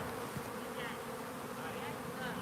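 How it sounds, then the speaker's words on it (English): A dense, continuous drone from a large honeybee swarm at a farmstead, thousands of wings humming together in an even wash close by, with no breaks. "This is gonna fill like a box and a half of freaking bees."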